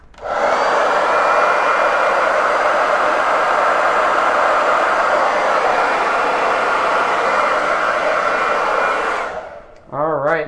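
Hair dryer blowing steadily to dry chalk paste on burlap craft boards, a loud continuous whooshing hum that stops abruptly near the end, followed by a brief voice.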